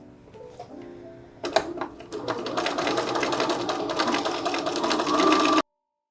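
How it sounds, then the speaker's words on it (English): A sewing machine stitches down a quarter-zip neckline and along the outer edge of a box, pivoting at the bottom. A few quiet clicks come first, then a steady, loud, rapid run of stitching that stops abruptly. "we're going to stitch down starting at the neckline, down along the outer edge of the box"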